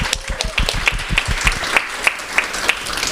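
Audience applause for a panelist at a panel discussion among Austin community members, heard as a sparse, fairly rhythmic patter of nearby claps over a low background murmur.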